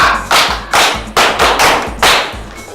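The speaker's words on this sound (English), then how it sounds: "Clap for her." Students in a school classroom clap for a classmate who named a shape correctly, sounding as several short rhythmic bursts of applause close by, with no talking.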